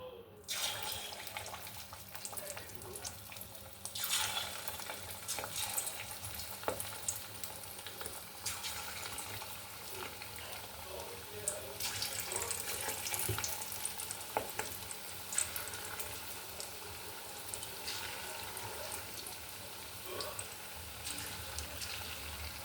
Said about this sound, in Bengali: এই মাছের ডিমের তেলে দিলে কিন্তু খুব ফাটে।